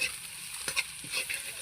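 Ginger, garlic, a little salt and chilli powder are stirred and fried in a pan, with a soft sizzle and scattered scraping taps from the spoon, close up and fairly quiet.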